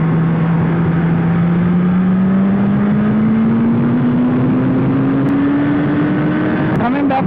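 A superbike engine drones loud and close in a steady note that climbs slowly in pitch over several seconds, like gentle acceleration on the road.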